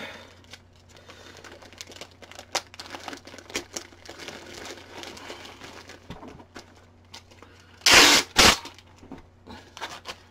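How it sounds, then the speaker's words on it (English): Packing tape is pulled and pressed onto a cardboard parcel being packed for shipping, giving close crinkling and rubbing throughout and ending in two loud ripping tears of tape near the end. "Okay, so I'll tape this,"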